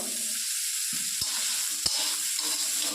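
Green beans fry in a little oil in a pan for mixed fried rice, giving a steady close sizzle broken by two sharp knocks of a stirring spoon.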